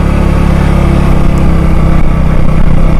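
Keeyway Superlight 125 motorcycle engine running steadily at close range, a continuous loud drone with a low, even rumble and no break over a few seconds.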